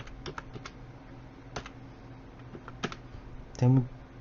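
Keys tapped on a computer keyboard while entering data into an Excel spreadsheet: sparse, crisp clicks in an irregular rhythm, close and moderately loud, ending with a brief burst of speech.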